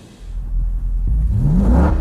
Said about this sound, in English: A powerful sound of acceleration is what you'll hear with the LS1 engine.